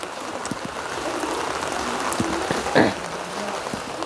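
Heavy rain falls steadily in Thailand, a dense, even hiss of drops drumming on surfaces that stays loud and close throughout, with a brief louder splash near the end.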